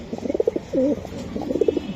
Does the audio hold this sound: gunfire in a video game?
no